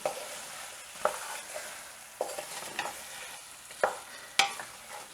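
A spoon stirs an okra curry simmering over low heat in a pan, with soft scrapes and a handful of sharper clinks spaced across the moment over a faint quiet bubbling, close by and without speech.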